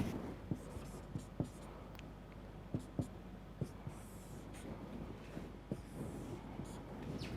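Marker or chalk writing on a board while working a math problem on the Jacobi eigenvalue method: irregular soft taps and short scratchy strokes, close and quiet, over a steady low room hum.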